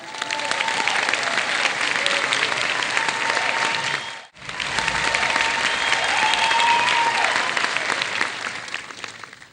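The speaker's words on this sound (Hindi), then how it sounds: "Please put your hands together for the very pretty" A studio audience applauds loudly and steadily to welcome a guest onto the stage at a music interview event. The clapping cuts off abruptly for a moment midway, then resumes just as full and dense.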